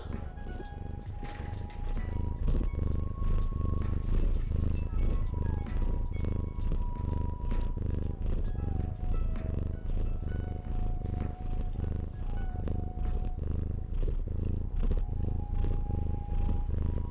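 A kitten purrs steadily and continuously, close and fairly loud, with a soft rhythmic rumble throughout and no talking.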